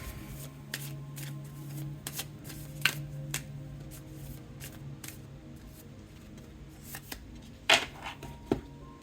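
Cards are shuffled for a reading: soft, close riffles and slaps in scattered bursts over a quiet room hum, with a few sharper flicks near the end.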